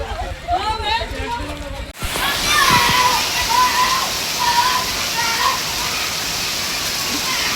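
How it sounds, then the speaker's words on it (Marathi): Heavy rain falling outdoors, a dense steady wash of water that follows a voice speaking at the start, with faint tonal sounds running under the downpour. "त्या ठिकाणी पुढे जोरात पाऊस चालू झालेला आहे"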